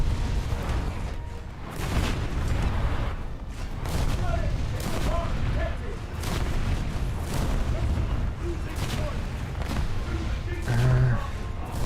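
Ship guns and turrets are blasted apart in a naval warship video game. Repeated heavy booms and rumbling artillery fire roll on continuously while a voice talks over the battle.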